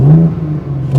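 A BMW M2 rumbling through its factory-fitted exhaust with a deep, steady low tone, very loud and close to the microphone, in one brief burst.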